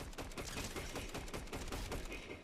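Video game gunfire, a rapid continuous volley of shots at a faint, distant level with no voices.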